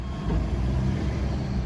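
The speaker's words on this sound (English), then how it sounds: "That noise is from that truck." A truck reversing close by gives off a steady low engine rumble with a reversing beep that is hard to pick out, heard alone at moderate loudness with no talk.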